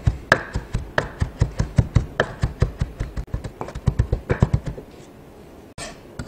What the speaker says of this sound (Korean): 자, 그 다음에 다시 한번 뒷날로 곱게 다지겠습니다.